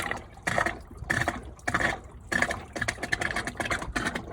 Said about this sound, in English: The water is still coming out.